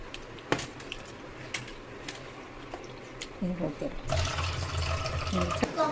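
Cleaned prawns rinsed in water in a kitchen, with a short burst of splashing and sloshing near the end after quieter handling noises, close by.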